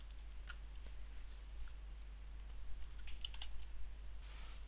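A password is typed on a computer keyboard as a short run of soft, quiet keystroke clicks, close and alone in a hushed room.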